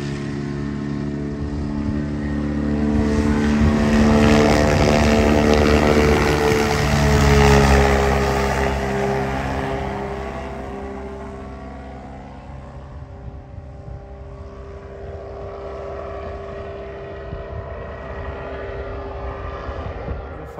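A Fox V4 propeller aircraft flying past: a droning engine and propeller hum swells as it nears, peaks loudly, then fades slowly into the distance as it moves away.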